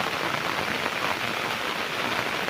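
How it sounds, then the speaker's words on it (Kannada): Heavy rain pouring down near small waterfalls, a dense, even hiss of drops striking surfaces that holds steady throughout with no voices. "ಮತ್ತೆ ಮಳೆನೇ ಪೂರ"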